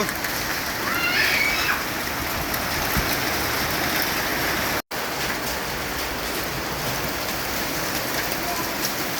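Steady heavy rain with hail hammering down in Birtamod, Nepal, a dense hiss with scattered harder taps, continuous throughout apart from one brief cut in the middle.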